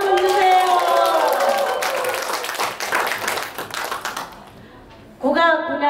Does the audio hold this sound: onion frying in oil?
no